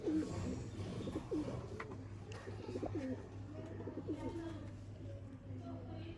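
Pigeons coo softly and repeatedly in a breeder's loft, their low rolling calls overlapping throughout over faint background murmur.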